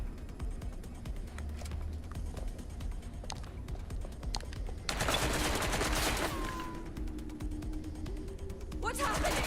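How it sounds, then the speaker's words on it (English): Rapid bursts of gunfire in the video game Watch Dogs: Legion, dense clattering shots over a steady background of mechanical and ambient noise, growing louder partway through. "Gunfire!"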